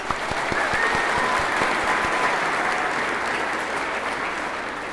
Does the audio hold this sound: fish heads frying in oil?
no